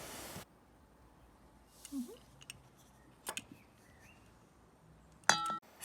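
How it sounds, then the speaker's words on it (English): Salt being stirred into a pot of olive oil for a hand scrub: sparse, faint spoon scrapes and light clinks against the container, with a brighter clink near the end, in a quiet room with no talking. "Add the 50 to 60 grams of salt to the pot and stir."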